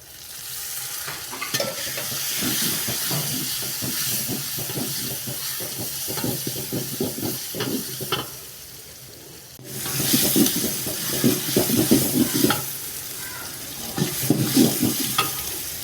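Onions sautéing for mushroom biryani, a steady loud sizzle with repeated stirring scrapes of a spoon in the pan, close up, with a short lull partway before the frying hiss swells again.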